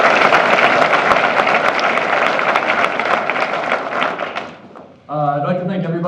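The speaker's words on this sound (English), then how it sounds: "If we could just give them all a round of applause." An audience at an event applauds speeches and performances with a dense, steady wash of clapping that fades out after about four seconds, then a voice starts talking.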